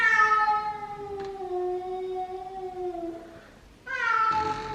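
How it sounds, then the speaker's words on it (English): A stray cat at a front door at night gives two long, drawn-out meows, the first a sustained wail fading out, the second starting sharply after a brief pause, close and clear with no talk. "So we have a cat that wound up at the front of our door"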